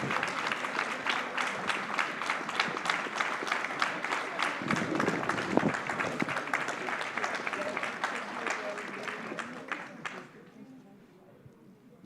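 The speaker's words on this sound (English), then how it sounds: "Thank you for the support and for the applause" A satsang audience applauds, dense crowd clapping held at steady strength for about ten seconds before it fades into quiet room noise.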